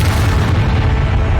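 A Confringo blasting spell in Hogwarts Legacy explodes as a loud, sustained boom with a heavy low rumble. It stays dense and roaring throughout.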